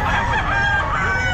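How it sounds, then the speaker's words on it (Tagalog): Chickens and roosters at a Bocaue pet market crow and cluck loudly and continuously, several birds overlapping close by in a busy, noisy setting. "Ayan pa mga manok ni Boss Ken"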